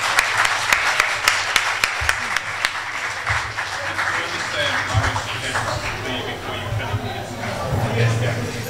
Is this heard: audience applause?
yes